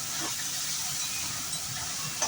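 Carrots and onions frying gently in a pan, a steady close hiss of soft sizzling running continuously with no voices.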